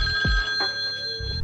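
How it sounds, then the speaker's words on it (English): A telephone rings in the 1981 horror film Friday the 13th Part 2, a brief, steady, tonal ring held over faint low background rumble. "She gets another phone call."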